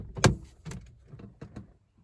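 A 1991 Dodge Dynasty's door opens with a sharp latch clunk, then a few softer thumps and rustles as it swings, close and brief.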